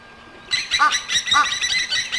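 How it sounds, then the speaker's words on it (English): Egyptian geese at a pan call with harsh, nasal honks and raspy cackling, several loud calls in rapid succession close by, rising abruptly out of quiet surroundings. "You can hear the Egyptian geese now."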